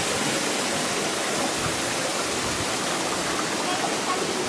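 Water rushes steadily near a mountain lake, a dense, close, continuous hiss-like flow without breaks or voices.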